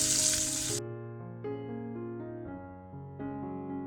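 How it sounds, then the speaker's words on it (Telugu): Sliced onions go into hot oil with whole spices — shahi jeera, cardamom, cloves and cinnamon — giving a loud, close hiss at first that settles into a steady frying sizzle. "ఒక 3 ఆనియన్స్, బిగ్ సైజ్ ఆనియన్స్ వేసుకొని ఇవి మంచిగా బాగా ఫ్రై అయ్యేదాకా వేయించేసుకోవాలి."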